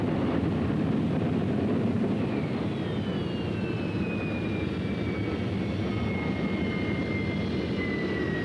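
A Harrier vertical-takeoff jet fighter gives a loud, continuous engine roar with a whining high tone that slowly falls in pitch, with no voices over it.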